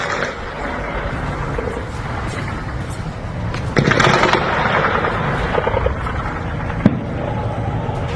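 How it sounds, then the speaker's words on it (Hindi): Gunfire and shelling in Kotli, with a few sharp distant bangs rising out of a dense, continuous background rumble and crowd-like noise. "ये फायरिंग की आवाजें आ रही हैं पूरे कोटली में।"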